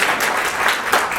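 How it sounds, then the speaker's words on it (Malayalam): A crowd at a Kerala Piravi speech about the Malayalam language breaks into brief applause, loud and close, with a fairly thin, uneven patter of hands. "വളരെ നനഞ്ഞ ഒരു കയ്യടി"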